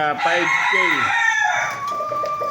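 An Asil hen, a two-time winner, clucks and calls close by in a few rising, rasping notes over a farmyard background with other fowl faintly audible.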